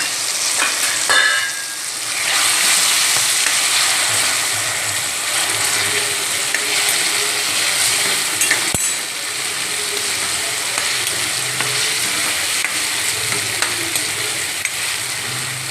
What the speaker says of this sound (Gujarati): હવે આપણે બટેટા નાખી દેવાના છે, સાથે વટાણા પણ નાખી દેવાના છે